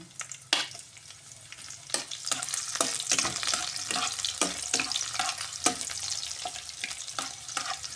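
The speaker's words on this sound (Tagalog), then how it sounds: "Mainit na, ilalagay na po natin ang ating bawang." Garlic frying in hot oil for adobo, with a dense, close crackle and sizzle broken by repeated sharp scraping and stirring strokes.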